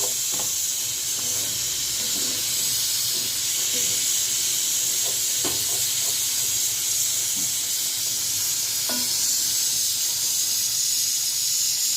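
Semolina halva roasting in a pan gives a steady, close sizzling hiss, broken by faint clinks of utensils and occasional small scrapes.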